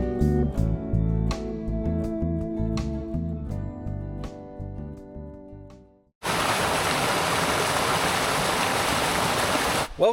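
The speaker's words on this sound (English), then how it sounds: "the most powerful waterfall in the entire state of South Carolina" Rainbow Falls, the most powerful waterfall in South Carolina, roars as a loud, steady broadband rush of falling water that takes over abruptly after a stretch of other sound and holds constant to the end.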